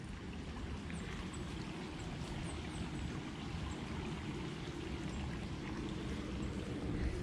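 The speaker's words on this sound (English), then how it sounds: "Yep, it's definitely rushing water." A stream rushes along a park trail in Alderman's Ford Park, Plant City, Florida. The water makes a steady, continuous broadband wash that holds evenly throughout, with no voices.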